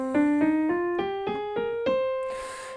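Piano plays a slow ascending C natural minor scale, eight distinct notes struck one after another, the last note ringing out alone.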